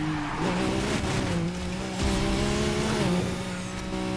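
Koenigsegg car driven in the video game Need for Speed Heat, with a steady engine drone whose pitch rises and falls with gear shifts, plus a faint tire-squeal texture, continuous and fairly close throughout.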